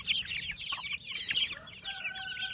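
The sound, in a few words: chicks being raised on a farm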